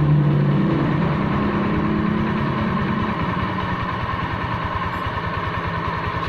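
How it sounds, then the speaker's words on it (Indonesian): A Honda Vario scooter engine idles close by with a steady, throbbing mechanical hum, running during work on its overheating radiator, alone with no talk. "Nah ini motornya sekarang hidup, ya."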